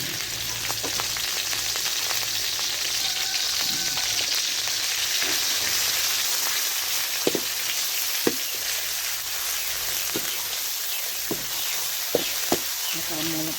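Pork dropped into hot oil in a pan sends up a steady, close sizzle with scattered sharp pops and spits throughout.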